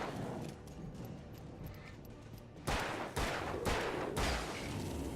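Gunfire in the video game Alan Wake, a rapid series of loud sharp shots over a constant rumbling background.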